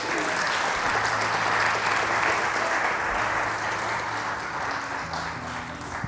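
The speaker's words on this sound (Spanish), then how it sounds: "Ahora sí, dele el aplauso a Él." Church congregation applauding together during a service, sustained dense clapping from a large crowd over a faint low musical hum, steady throughout.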